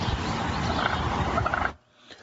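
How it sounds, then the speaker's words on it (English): Several wild turkeys gobble in a residential neighborhood in Woburn, a loud, busy chorus of rapid calls over steady background noise that breaks off abruptly near the end. "Turkeys have gotten very friendly in one neighborhood, hanging out on front lawns and following cars out the driveway."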